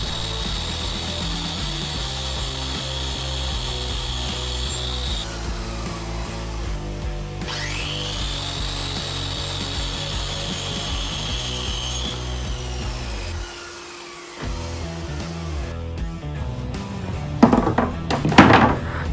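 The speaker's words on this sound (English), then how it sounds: "so I'm just going to use a straight edge and a jigsaw" A jigsaw cuts 1x6 wooden boards into pieces for a bluebird house, guided along a straight edge; steady close buzzing saw noise runs almost throughout, with a brief dip near the end and a few louder knocks and rattles as it finishes.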